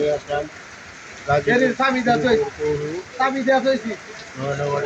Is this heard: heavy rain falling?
yes